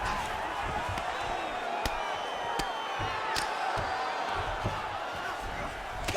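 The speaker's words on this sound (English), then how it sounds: "huge pop from the crowd as the fighters get back up to their feet" A large arena crowd roars in the UFC 5 video game as two fighters climb back to their feet, a dense, steady wall of cheering with sharp slaps and thuds cutting through and commentary voices running underneath.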